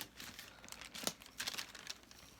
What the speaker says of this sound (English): Lightly brushing water and then tearing the paper.